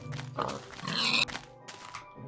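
Pig grunting in Minecraft, a few short snorting grunts close by in a busy game scene, with brief sharp effects around them and no speech.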